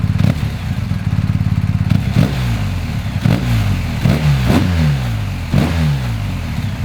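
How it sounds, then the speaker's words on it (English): A BMW GS two-cylinder boxer motorcycle engine throbbing close by with a lumpy, uneven pulse. It revs up and drops back several times in repeated blips, and no voices are heard. "Right now I'm not exactly a fan of a boxer engine sound."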